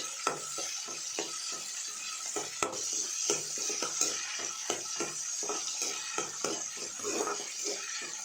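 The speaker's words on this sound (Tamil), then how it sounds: "இதை நல்லா வதக்கி விட்டுருங்க." Onions, tomatoes and curry leaves sautéing for roadside-style idli sambar, with a steady sizzle and repeated scraping stirs of a spoon against the pan, close and continuous with no talk.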